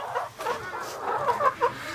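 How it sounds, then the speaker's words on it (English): Chickens cluck softly and fairly close in a coop, a few short, rising and falling calls over about two seconds with no one talking. "Just some chickens."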